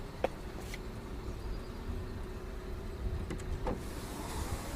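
An electric motor adjusts a seat or fitting inside a BMW X7 xDrive40i, giving a steady low whirring hum over several seconds with a couple of soft clicks, close by in a quiet cabin.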